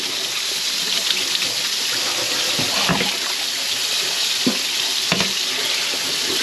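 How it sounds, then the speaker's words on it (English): Running water from a tap splashes steadily into a sink as food and then hands are rinsed in a camp-style kitchen, with a few sharper knocks and clatters breaking through the continuous hiss. "Let's wash it off and add it to the mix. And then wash my hands really good."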